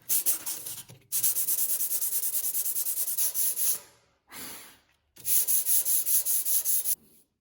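Steady, rhythmic rasping of a steel chisel blade scraping back and forth on sandpaper, in long bursts separated by short pauses.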